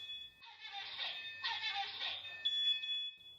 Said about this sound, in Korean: 연기가 피어오르자 곧바로 경보음이 울립니다.